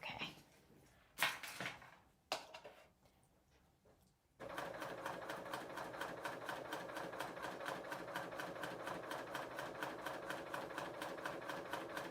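A serger sewing machine hems a sleeve: after a few faint clicks and thread snips, the motor starts and runs in a fast, steady, loud rhythmic whir for the rest of the time, with no talking.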